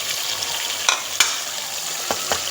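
Mutton with chickpeas and potatoes fries in a pot, giving a steady close sizzle broken by a few sharp crackles and stirring clicks.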